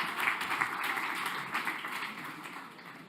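Audience applause at a GreenTech industry event as a company representative is called to the floor, a steady patter of clapping that stays moderately loud and slowly tapers over a few seconds.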